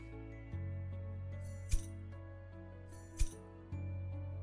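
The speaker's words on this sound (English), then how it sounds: "Impact on metal" A metal impact sound effect: two sharp metallic clinks about a second and a half apart, set against a steady humming tonal background with a few softer shifts.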